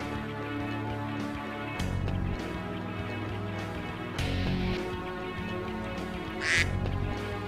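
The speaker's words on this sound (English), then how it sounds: "Everybody spam quack." Repeated duck quack sound effects fire off in bursts over game music during a Metal Wolf Chaos stream, each quack short and fairly loud, with no talk.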